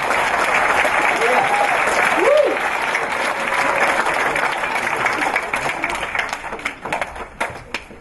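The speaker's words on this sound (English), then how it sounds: "Let's give him a round of applause" Sustained crowd applause at a primary school opening event, steady and dense for several seconds before thinning out, with a faint voice briefly audible near the start.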